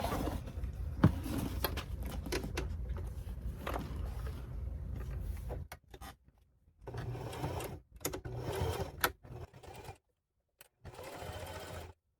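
A sewing machine stitches a Marmoris handbag in bursts of rapid mechanical chatter, running steadily for several seconds, then in shorter runs separated by near-silent pauses.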